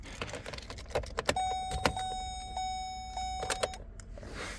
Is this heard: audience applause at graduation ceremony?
no